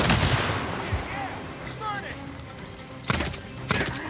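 A few gunshots in Days Gone fired from a weapon with a compressor, heard as sharp cracks at the start and a pair of loud shots near the end, over busy game ambience and faint voices.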